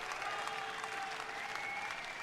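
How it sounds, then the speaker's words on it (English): Crowd applause and cheering played as a sound effect during a fantasy tabletop game session, a steady far-off wash of many clapping hands, faint and continuous, with a thin tone running underneath. "I heard a cheer."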